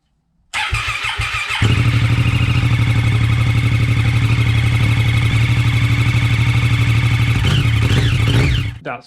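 A Triumph Daytona Street Triple motorcycle engine with a damaged exhaust manifold starts up and settles into a loud, steady, close idle with a slight rise near the end before it cuts off.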